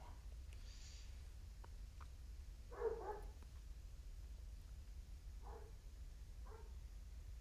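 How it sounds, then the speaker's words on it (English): A dog barks a few times off to one side, with short muffled barks spread over several seconds above a steady low background hum during a Diablo 2 speedrun commentary. "apologies for my dog barking there"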